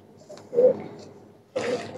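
Saharanpuri teddy pigeons give soft, low coos, one brief burst followed by a fuller cooing phrase near the end, fairly close in a quiet setting.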